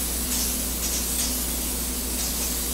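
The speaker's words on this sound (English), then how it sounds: "I have a little baking pan here, right here, that I'm going to spray down the bottom of." Spray hisses steadily onto the bottom of a small baking pan in a kitchen, one continuous close-up burst with no talking.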